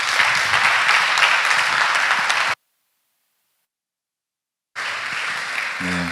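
Church congregation at a revival service in Philadelphia claps loudly to welcome a preacher, a dense, sustained round of applause that cuts to silence midway, then resumes before fading as a voice begins.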